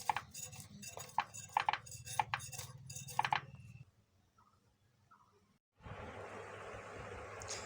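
Bata fish being cut with a knife on a board, giving several sharp clinking chops and scrapes in the first few seconds, then a brief quiet stretch before a steady rushing background comes in.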